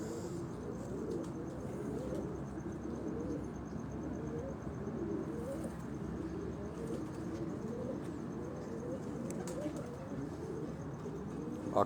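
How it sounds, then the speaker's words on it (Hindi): Pigeons coo softly and repeatedly on a rooftop loft, a low murmuring burble that continues throughout at modest distance under faint ambient noise. "ये कबूतर आप लोग देख भी रहे हैं।"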